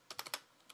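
Typing on a computer keyboard: a quick burst of four close, crisp key clicks, then a short pause and one or two lighter taps, with no talk.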